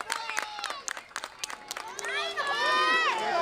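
A crowd at an amateur brawl-style wrestling event, baseball-themed, shouts and cheers close by in scattered bursts that build into sustained excited yelling, with voices talking throughout.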